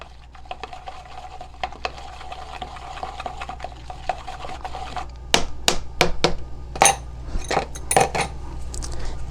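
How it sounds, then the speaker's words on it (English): A glass stirring rod mixing cosmetic gel in a glass vessel: faint soft swirling at first, then a run of sharp, close clinks of rod against glass in uneven bursts. "I'm going to mix it a bit with my stirring rod."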